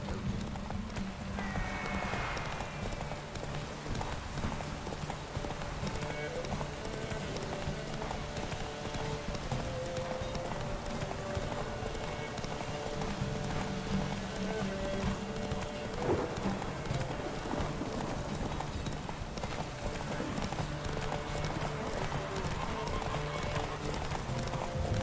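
Horse hooves clip-clop steadily through a race in The Witcher 3 video game, close and continuous for the whole stretch, with an occasional whinny and faint voices in the background.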